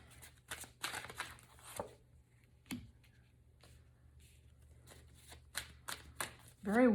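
Tarot cards being shuffled and handled, with repeated riffling bursts and soft card slaps spread across the stretch, and a few quieter gaps in between.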